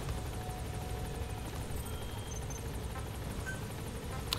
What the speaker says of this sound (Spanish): Llamo al helicóptero para empezar a hacer las misiones.